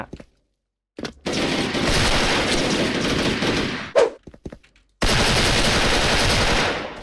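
Gold M4A1 assault rifle fire in a shooting video game, loud dense automatic bursts in two long sustained volleys separated by a short gap with a few scattered shots, no talk.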